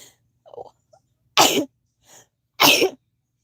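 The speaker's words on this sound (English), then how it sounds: "That was a sneeze." Two loud, abrupt sneezes about a second apart, close by, with faint small sounds before and a quiet breath between them.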